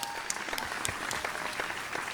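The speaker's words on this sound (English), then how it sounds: "Another round of applause, folks." Audience applause after a contestant's performance on a televised vocal singing competition stage, a steady wash of clapping at moderate distance with a few sharper claps standing out, no talking over it.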